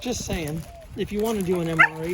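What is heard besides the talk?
dogs playing and barking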